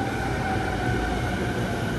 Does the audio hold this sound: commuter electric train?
yes